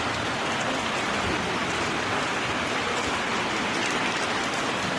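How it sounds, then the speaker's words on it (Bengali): Heavy rain pouring down outdoors on a holiday, a thick unbroken wash of downpour noise that stays loud and even throughout, with no speech. "দেখতে দেখতে কিন্তু প্রচণ্ড জোরে বৃষ্টি হচ্ছে"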